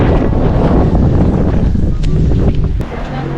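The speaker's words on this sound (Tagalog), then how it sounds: "Mahangin guys, mahangin." Strong wind buffets the microphone on Tower Bridge, London, in a steady, loud roar with low rumbling gusts throughout, easing slightly near the end.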